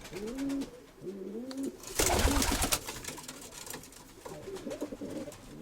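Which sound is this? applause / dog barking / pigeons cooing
pigeons cooing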